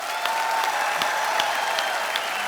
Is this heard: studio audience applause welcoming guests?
yes